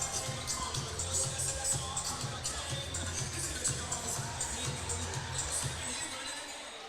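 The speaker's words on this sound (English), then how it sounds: "This crowd's been raucous tonight" A raucous hockey game crowd keeps up a steady, distant roar of voices and cheering throughout, with a faint rhythmic thumping underneath.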